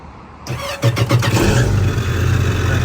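A 2024 Yamaha GP-SVHO personal watercraft engine starting: a brief whirring crank of the starter, then the engine catches with a loud burst and settles into a strong, rumbling idle.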